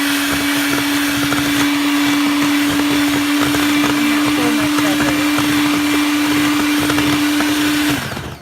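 A blender whizzes butternut squash cake batter in one loud, steady whine held for about eight seconds, then cuts off abruptly, close and alone.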